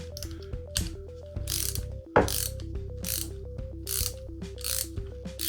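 A ratchet wrench tightens a cutter tool up close, giving rapid, even clicking in short bursts with brief pauses between strokes and no talking.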